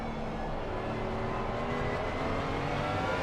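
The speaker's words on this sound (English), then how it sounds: "Hear a car." Race car engine from a GT3 championship racing video game, a steady droning roar with slight rising pitch as the car passes, continuous and fairly loud throughout.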